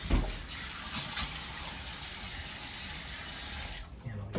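Tap water runs steadily into a sink while wetting the face before a wet shave, a constant close splashing hiss that stops abruptly near the end.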